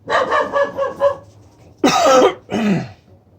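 A doodle barks in several short, hoarse bursts at moderate distance in a backyard, a rapid run of yaps followed by two louder, rougher barks, then quiet.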